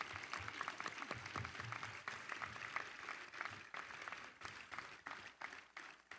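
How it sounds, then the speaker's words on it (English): Graduates at a spring university commencement ceremony applaud their faculty, a sustained, even wash of clapping from a large crowd in a big venue, moderately distant and continuous throughout. "please show your thanks and applaud these dedicated individuals who have guided you along your journey"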